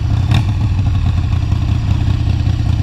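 A Harley motorcycle engine with the choke down, struggling to idle: a loud, close, lumpy low rumble with uneven pulsing firing, a brief sharper clatter near the start.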